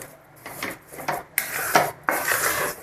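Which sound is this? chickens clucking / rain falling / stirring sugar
stirring sugar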